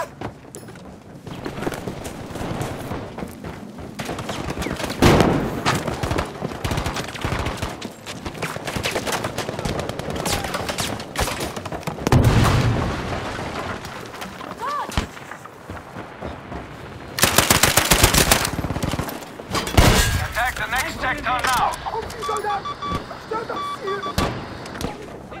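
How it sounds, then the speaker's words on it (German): Machine gun fire crackles in repeated loud bursts during a Battlefield V match, mixed with other gunshots and shouted voices, some volleys close and sharp, others more distant. "Maschinengewehr! Da!"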